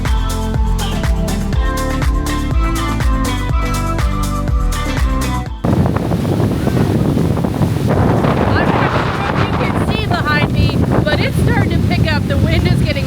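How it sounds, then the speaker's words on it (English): Strong wind buffets the microphone on a beach at MSC's Ocean Cay private island, roaring steadily with surf beneath it. The first stretch is masked by loud music before the wind takes over. "The wind is getting really, really choppy here."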